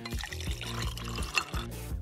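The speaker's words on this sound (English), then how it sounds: "Pour hot water over a lemon." Hot water poured over a lemon, a steady liquid trickle with repeated dripping splashes as it runs off the fruit, close and fairly loud with no voices.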